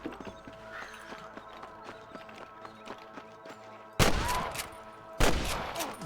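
Gunfire in Red Dead Redemption crackles in scattered single shots at first, then erupts into two loud, close bursts of rapid fusillade, with hoofbeats and thuds mixed in.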